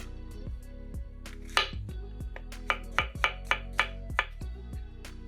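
Knife slicing button mushrooms into thin slices on a cutting board, a steady series of crisp chops that quicken toward the end, with no voices.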